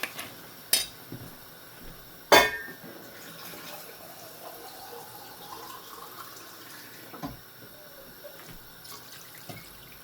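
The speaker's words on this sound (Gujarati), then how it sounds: "બે કરસા પાણી એડ કર્યું મેં." Water runs steadily from a tap into a cooking pot for a crab curry, with a couple of sharp clinks of metal near the start.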